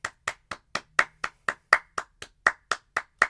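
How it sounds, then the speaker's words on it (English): A single person's hands clap in a steady, even rhythm, about fourteen sharp, close claps over a few seconds with no talking, a round of applause for a spiky white and purple cocoon design. "Let's give them a round of applause."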